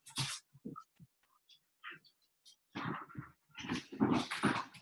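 A pet dog during its nap gives soft whimpers and low growls in scattered short bursts, close and fairly quiet, with brief silent gaps.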